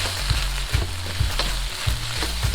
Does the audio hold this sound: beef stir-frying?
yes